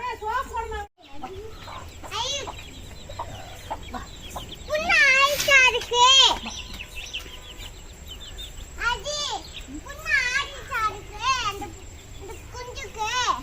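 Chicks held in the hand peep loudly and repeatedly in high, rising chirps, clustered in bursts, close up, with a voice and other speech mixed in.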